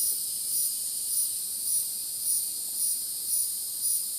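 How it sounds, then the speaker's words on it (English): A steady high-pitched insect drone pulsing in regular waves, like cicadas buzzing continuously in the distance with no other sound. "Sounds like cicadas."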